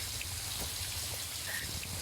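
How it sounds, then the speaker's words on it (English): A virtual shower running in a basement in the video game Call of Duty Warzone, a steady patter of falling water like rain, continuous and fairly loud throughout with a low hum underneath. "Once we go down to the basement, we need to turn on the shower."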